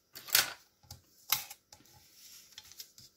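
A bone folder drags across paper to crease a fold, sharp scraping strokes close to the microphone, two strong passes followed by lighter rustles and taps.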